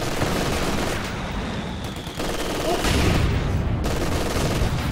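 Machine gun fire rattles through a Company of Heroes 2 battle, dense bursts of rapid shots layered with wider battle noise, loud and continuous over five seconds.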